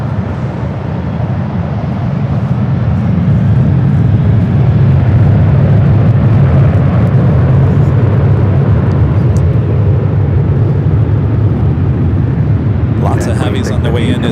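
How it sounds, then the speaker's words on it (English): United Boeing 787-9 Dreamliner arriving at LAX, a loud sustained low roar of engines and air that swells and holds steady, with clicks and handling noise near the end. "787-9 Dreamliner."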